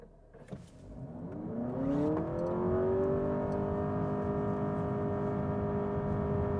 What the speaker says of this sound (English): I'm going to hit it so you can hear exactly what the CVT sounds like.